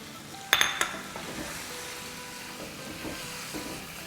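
Large tomato pieces drop into a hot pan with a quick clatter of metal, followed by a soft, continuous sizzle and occasional faint stirring clinks.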